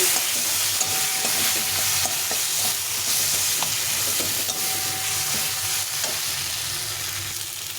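Potatoes frying with spices in a pan, with a loud, steady sizzle throughout and occasional spoon scrapes and taps as they are stirred.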